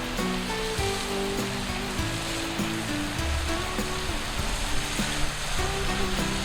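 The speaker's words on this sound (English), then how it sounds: "This beautiful 80 to 90 foot falls is fed by rainwater from the surrounding hills" Small 80 to 90 foot rain-fed waterfall at Kings Bluff running with little flow, a steady broadband rush of falling water heard continuously, with faint tonal sounds layered over it.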